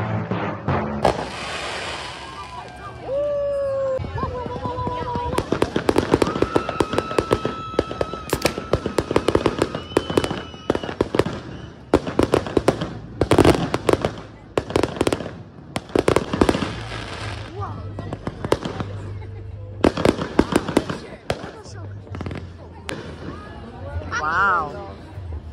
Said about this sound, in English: Everybody just waiting for the fireworks to start.